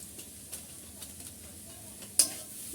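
Potato mixture with Maggi masala being stirred in a pan for bread rolls, a soft faint scraping with a light sizzle underneath and one sharper clink near the end.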